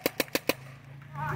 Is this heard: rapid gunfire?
yes